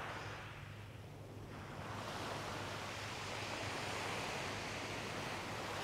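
Wind and choppy sea waves on Seaford beach in Sussex, a steady broad roar of surf and gusting wind buffeting the microphone, continuous and fairly loud with no voices.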